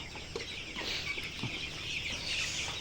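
Colour bat chickens, about 31 days old, cluck and chirp on a poultry farm: a steady crowd of overlapping calls with occasional closer clucks over constant high-pitched chatter.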